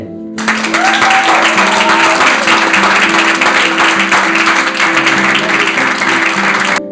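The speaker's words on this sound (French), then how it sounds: "Tout le monde applaudir Dieu." An audience at a personal development program bursts into loud, sustained applause that starts abruptly and holds steady for several seconds, with scattered cheers mixed in.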